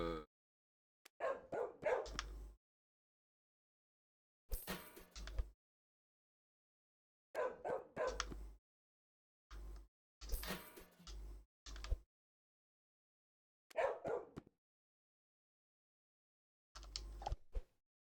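Dogs bark in the pet shop simulation game Shop Simulator: Pet Shop, in short bursts of several yaps each, repeated about seven times with silent gaps between them, fairly close and clear.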